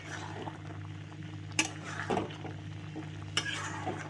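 Mixed vegetables sautéing in a pan give a low, soft sizzle under quiet stirring, with a few sharp metallic clinks of a spatula against the pan and a low background hum.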